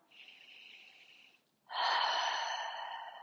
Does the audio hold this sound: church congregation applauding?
no